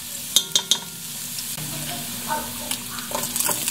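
Garlic and onion sauté in a hot pan with a constant sizzle, broken by a few sharp clacks and scrapes of a utensil stirring against the pan at close range.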